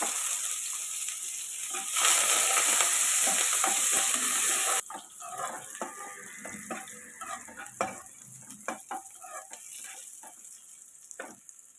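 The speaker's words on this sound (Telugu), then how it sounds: "ఆనియన్స్ పచ్చిమిర్చి కొంచెం కరివేపాకు కొంచెం కొత్తిమీర వేసుకొని వేయించుకోవాలి" Onions, green chillies, curry leaves and coriander fry in hot oil in a pan, a loud steady sizzle at first that drops to a quieter crackle with scattered stirring clinks and scrapes.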